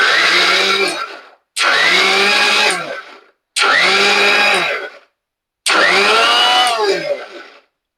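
A mixer grinder crushes green chickpeas in four loud, close bursts of whirring motor, each a second or two long, with short silent gaps between.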